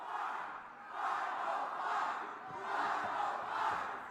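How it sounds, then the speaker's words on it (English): Wrestling crowd at a Juggalo Championship Wrestling event in Albuquerque chanting in steady swelling waves, a dense roar of many voices rising and falling in rhythm throughout. "Crowd chanting"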